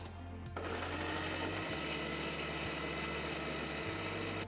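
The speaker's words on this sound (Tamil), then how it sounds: "இப்போ நல்லா ஃபைன் பேஸ்ட்டாக அரைச்சி எடுத்துக்கலாம்" A mixer grinder whirs into action, grinding bitter gourd with its squeezed juice into a fine paste; after a brief quiet moment, the motor kicks in with a loud, steady high-pitched buzz that holds without letup.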